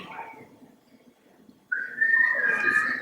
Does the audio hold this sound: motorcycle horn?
no